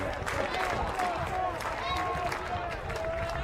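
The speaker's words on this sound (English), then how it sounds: "The crowd making some noise." A large stadium crowd at a professional ultimate frisbee game roars steadily in a broad, continuous wash of cheering and noise, with a few whistles cutting through.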